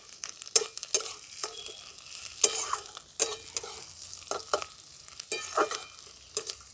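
Chopped onions and whole green chillies fry and sizzle in hot oil, with a steady crackle broken by repeated scraping stirs and light utensil knocks against the pan, close and fairly quiet, no talking.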